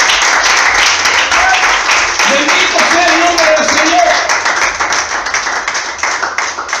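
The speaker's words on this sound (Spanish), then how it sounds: "¿Puede dar un aplauso al Señor en esta hora?" A church congregation applauds during a sermon, dense steady clapping throughout with a voice speaking over it and shouts rising midway.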